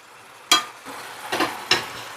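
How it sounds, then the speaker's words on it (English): Chicken sears in a hot pan after a vermouth deglaze, a continuous close sizzle broken by three sharp bursts as the pieces are stirred and moved. "I'll sear that off for a minute or two, get rid of the alcohol, or some of it anyway."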